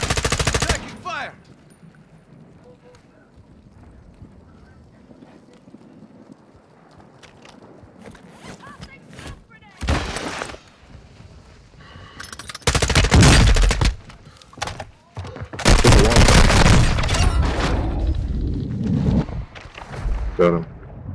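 Automatic gunfire in Call of Duty: Modern Warfare II, heard as several loud, close bursts of rapid shots separated by quieter gaps, with players talking in between.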